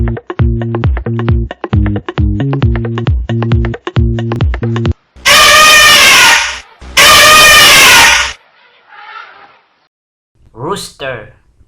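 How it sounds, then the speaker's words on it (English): A loud, brassy elephant trumpet blasts twice in a row, harsh and near, after a stretch of rhythmic electronic beeps; a voice then speaks briefly. "elephant."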